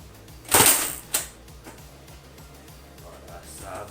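A Nerf Mega blaster fires a dart with one sharp, bright mechanical snap, followed by a smaller click, over a low steady background hum.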